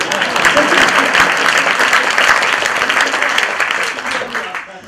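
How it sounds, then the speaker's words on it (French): Audience applause for a philosopher guest, dense continuous clapping at close range that tapers off toward the end, with some voices mixed in. "Mais on l'applaudit quand même."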